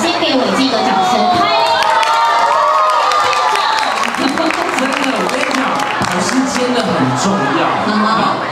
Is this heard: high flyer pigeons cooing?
no